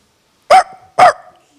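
A voice imitates a small dog, giving two sharp, close yapping barks about half a second apart.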